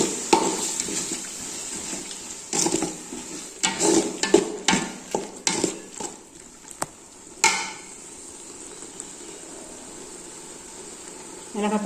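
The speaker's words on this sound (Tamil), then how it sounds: "இப்போ அரைச்சி வச்ச சின்ன வெங்காயம் சேர்க்க போகிறோம்" Ground shallots go into sizzling chicken biryani masala in a pan, with a series of sharp stirring and scraping knocks of a spoon against the vessel over a steady low fry, then a quieter sizzle.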